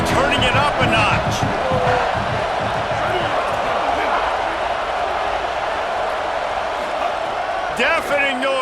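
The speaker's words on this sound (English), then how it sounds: "this crowd is turning it up a notch" A stadium crowd in an American college football video game roars in a broad, sustained wash, with play-by-play commentary talking over it at the start and again near the end.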